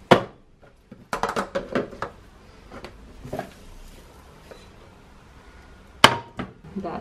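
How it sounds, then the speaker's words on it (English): A Spanish tortilla flipped in a frying pan with a special Spanish flipping plate: a sharp clatter of ceramic against metal, several quick clinks and knocks up close, then a pause and another loud clank. "I'm going to flip the tortilla using the very handy Spanish plate for flipping tortillas"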